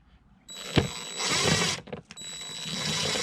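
A T30 Torx driver works on the air box bolts of a 3.5L Pontiac G6 engine, giving a sharp metallic click and then short stretches of whirring, ratcheting mechanical noise, close and fairly quiet.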